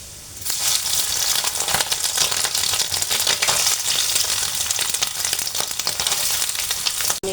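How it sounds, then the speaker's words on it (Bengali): Garlic and soya chunks fry in a pan with a loud, dense crackling sizzle that starts abruptly and holds steady and close for several seconds before cutting off. "রসুনটা একটু ভাজা ভাজা হয়ে আসলে, ব্রাউন কালারের হয়ে আসলে আমি সয়াবিনগুলো দিয়ে দেব।"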